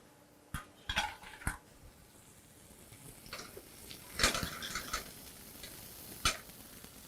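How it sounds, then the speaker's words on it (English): Beef tenderloin searing in a hot pan, a soft sizzle under sharp clinks and knocks of pans and utensils, with sparse kitchen handling sounds. "this we're going to put into a nice hot pan. And we want to start to sear that off"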